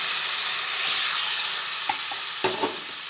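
Masala with green chillies fries in a pan for cabbage kofta curry, a steady bright sizzle with a few soft knocks from stirring near the end.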